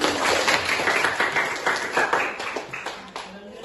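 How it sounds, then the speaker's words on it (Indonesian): A twelfth-grade crafts and entrepreneurship class claps after a group presentation, a short burst of hand claps that fades over a few seconds, with voices murmuring through it. "tepuk tangan"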